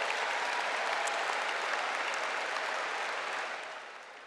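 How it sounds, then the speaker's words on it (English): A dense audience at the University of Pittsburgh's 2023 new student convocation applauds international students with steady, loud clapping that fills the room and then fades out toward the end. "we'll give them a round of applause too."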